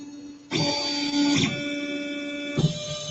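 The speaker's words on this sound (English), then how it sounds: "when you press home, the printer will start homing" A 3D printer homes, its stepper motors giving a loud tonal whine that starts abruptly, rises in pitch briefly, holds steady, then shifts with a small clunk, with no voices.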